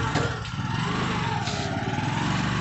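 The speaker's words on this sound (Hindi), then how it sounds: "अबे फिर क्लच दबा भाई कर कर शकील जो है ना ज़्यादा फ्री हो गया है पीछे" A motorcycle engine runs steadily at a low, even putter during a riding lesson, loud and close throughout with no breaks.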